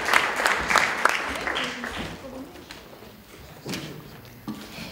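Audience clapping at a student theatre festival, a brisk round of applause that tapers off within two seconds, followed by scattered thuds, shuffling and a few low voices.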